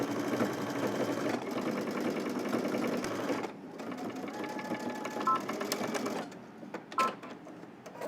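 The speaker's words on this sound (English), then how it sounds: "we're going to stitch all the way around using 5/8 of an inch seam allowance" A sewing machine runs a cardigan cuff seam at a 5/8-inch allowance, whirring steadily up close, then slowing and stopping in short bursts with a few clicks toward the end.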